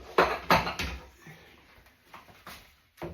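A tray and chopping board being washed up at a kitchen sink, several sharp knocks and clatters spaced irregularly, with quieter sloshing between them and no talk.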